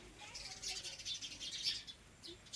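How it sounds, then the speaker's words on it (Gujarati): Faint, distant birds chirping in a steady high twittering chorus, with a soft background hush. "અટાણે પક્ષીડા બોલે છે જુઓ."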